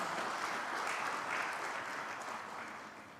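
Steady applause from a sizable audience at an economic forum in Indonesia, continuous clapping that gradually tapers slightly over a few seconds.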